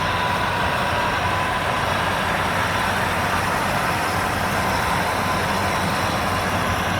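Two tractors, a John Deere 5075E and a Mahindra 755 DI, drive at speed, giving a loud, steady engine roar with broadband rumble that holds unbroken throughout, with no talk over it.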